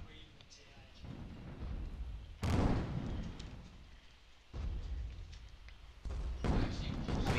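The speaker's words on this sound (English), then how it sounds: "The Winter, wow, opening up with the Hwachas to maybe disable the Bois broadsides" Hwacha rocket volleys from an airship in the Guns of Icarus game, rapid booming bursts that come in several waves with steady rumble in between, fairly loud and close, no talk over it.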